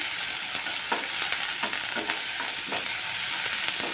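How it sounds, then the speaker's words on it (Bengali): Mutton frying in a pan with onion paste until reddish-brown, a constant dense sizzle broken by regular scraping stirs of a spatula, no speech. "আমি লাল লাল করে ভেজে নিচ্ছি।"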